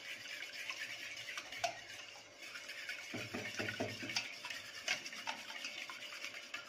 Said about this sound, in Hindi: इसको हल्का सा मिक्स कर देंगे.